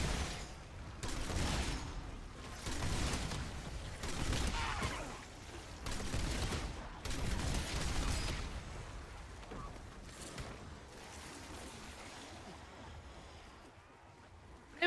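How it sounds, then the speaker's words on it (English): The War Machine grenade launcher fires in the zombies mode of a video game, giving a series of muffled booming explosions in uneven pulses, moderately loud, with faint voices beneath. "War machine firing for effect."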